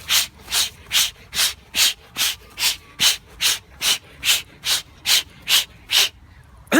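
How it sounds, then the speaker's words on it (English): Rhythmic breathing for active meditation: about fourteen strong, even breaths, each a forceful airy rush, repeating steadily at roughly two per second, close and loud with no talk. "The first one is rhythmic breathing."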